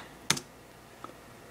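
Short burst of computer keyboard typing, a quick cluster of close key clicks followed by one fainter click, in an otherwise quiet room.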